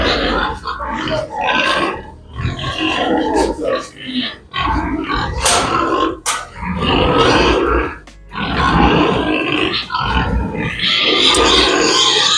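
Pigs eating compound feed on a village farm grunt loudly and almost constantly, close by, in overlapping bursts with brief pauses, and voices are heard in the background.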